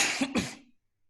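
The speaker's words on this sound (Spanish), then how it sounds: "Discúlpenme la tos, es alergia, no es coronavirus." A single short, throaty allergy cough, close and clear, with a brief second burst, then silence.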